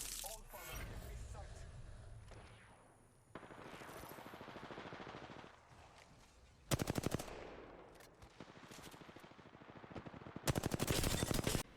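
Automatic and single gunfire from the video game Apex Legends, several loud rapid bursts in close succession between stretches of quieter game noise, with a voice talking early on.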